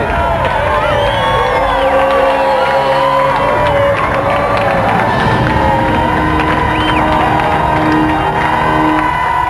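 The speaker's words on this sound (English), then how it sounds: "have another round of applause then, Michael and Lewis." A studio audience on the GamesMaster game show cheers and applauds for two contestants, loud crowd noise with whoops and shouts mixed with bright tonal music, sustained without pause.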